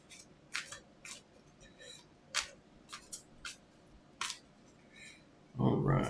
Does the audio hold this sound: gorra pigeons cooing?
no